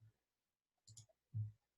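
Faint computer mouse clicks come in a few quick, light taps, with soft low thumps around them in an otherwise quiet room.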